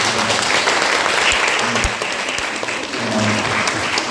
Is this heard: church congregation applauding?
yes